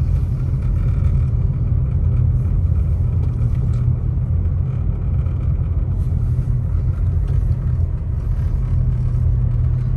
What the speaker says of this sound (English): There's just cars driving like 10 miles an hour.